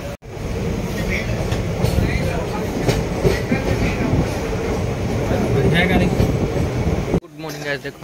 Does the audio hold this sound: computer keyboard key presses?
no